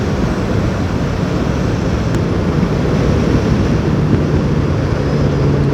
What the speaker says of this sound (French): Il y a énormément de vent, je sais pas si vous m'entendez encore